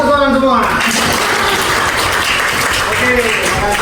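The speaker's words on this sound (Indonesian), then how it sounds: "Tepuk rame aja lah, tepuk tangan semua." Classroom applause from students, a dense, fairly loud patter of clapping held steady for several seconds, with voices audible beneath it at the start and end.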